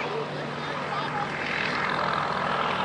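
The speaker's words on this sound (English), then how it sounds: "that's pretty unusual to see a plane going by sideways like that" A Yak-55M aerobatic plane flies by during an airshow, its propeller engine a steady broad drone that swells slightly, with a commentator talking over it.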